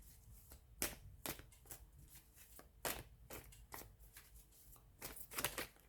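Tarot cards are shuffled and drawn by hand, giving soft, quiet riffling bursts and sharp flicks at an uneven pace, close and with no talking.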